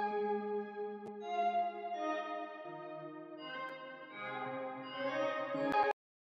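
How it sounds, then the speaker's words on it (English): A synth preset called Mayweather from a sample bank, playing sustained chord tones with bright layered harmonics and shifting notes, steady and fairly loud throughout before stopping abruptly, no voices. "The preset is called Mayweather and it sounds like this."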